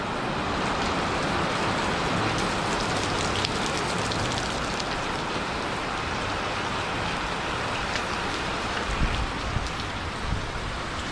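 Heavy rain pours down as a dense, steady hiss that fills the whole clip at an even level, with no voices and only faint thumps near the end.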